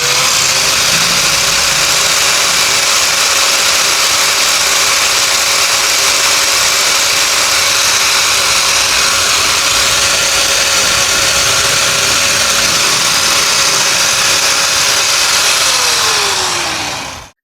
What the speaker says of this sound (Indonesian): Kita akan langsung menguji angle grinder 5 in dari Dongcheng.